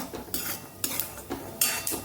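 Peanuts roast in a little oil in a pan for street-style jhal muri, with a metal spoon scraping and stirring in repeated strokes over a faint sizzle.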